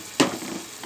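Chicken curry base frying in a pan, a brief sharp sizzle flaring up and then settling into a soft, steady crackle.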